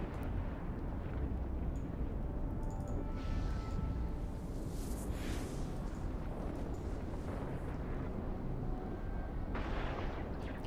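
Battleship missiles launching and detonating in the space game EVE Online: a continuous rumbling wash of distant booms and whooshing impacts, steady and moderately loud with no speech.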